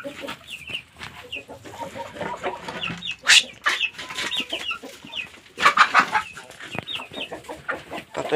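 Chickens cluck and peep in a poultry coop holding Kuchinsky breed chicks, with repeated short calls and scattered louder squawks at moderate distance and no talking.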